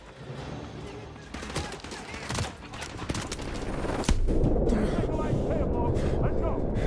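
Loud gunfire and battle noise from Modern Warfare 2 Remastered, with shotgun blasts and other shots ringing out in an alley skirmish, and voices calling out over the combat.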